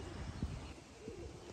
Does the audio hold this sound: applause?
no